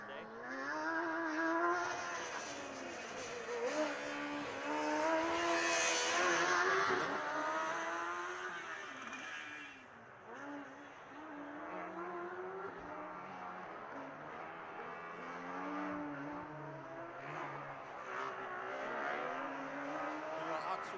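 A Formula Student race car on an autocross run at Formula Student Germany 2015, its engine whining and revving up and down through gear changes at a moderate distance, with a commentator talking over it.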